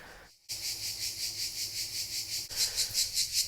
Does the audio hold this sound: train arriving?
no